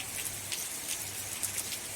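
Steady rain patters on surfaces nearby near Jim Corbett after an all-night downpour, with scattered louder drips over a constant wash of falling water and a low background hum.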